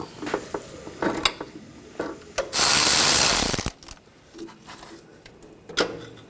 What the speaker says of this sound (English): Now from underneath, use a 15mm socket. Loosen this bolt up, take that out.